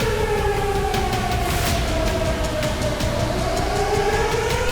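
A wailing air raid siren in Ukraine during a rescue operation rises and falls in pitch, loud and continuous, over a low rumbling background.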